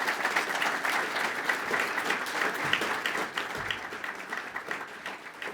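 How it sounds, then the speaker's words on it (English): Audience applause at a high school debate championship, a steady crowd of hands clapping at moderate volume that gradually eases toward the end, with no speech over it. "I think they deserve a round of applause"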